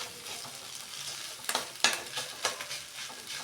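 Food frying in a pan while being stirred, a soft steady sizzle broken by several sharp scraping clacks of the utensil against the pan, close by and with no talking.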